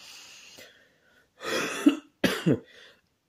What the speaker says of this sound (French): je tousse un petit peu aujourd'hui